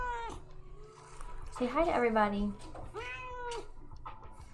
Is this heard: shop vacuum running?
no